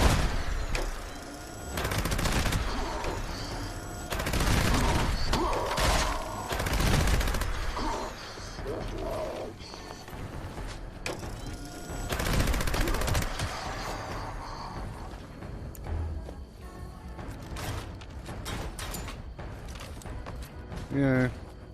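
Rapid gunfire from a fast-firing weapon in Fallout 76, with dense repeated bursts of shots, loud and close, fading to scattered pops near the end, with someone talking at times.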